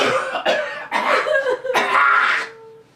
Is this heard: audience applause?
no